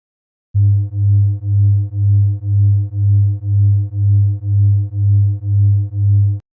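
Two pure low sine tones beat against each other, giving a steady, loud train of smooth pulses about two per second. The low hum swells and fades evenly, with no other sound.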